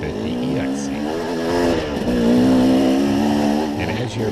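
A KTM 250 EXC enduro motorcycle being ridden, its engine revving and droning steadily with rising and falling pitch, loud and close throughout.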